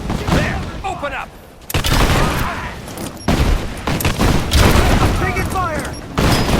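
Rapid bursts of gunfire crackle through a firefight in the Rise of the Tomb Raider video game, dense and loud with brief lulls, while voices shout over the shooting.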